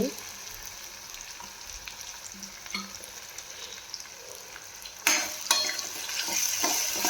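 A besan mixture stirs and fries in a pan with a steady low sizzle, and toward the end a spoon scrapes and knocks against the pan in several sharper bursts, with no talking.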